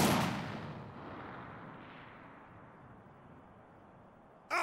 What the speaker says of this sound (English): Artillery ready! Missed!